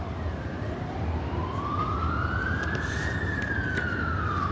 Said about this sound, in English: Listen how loud that siren is.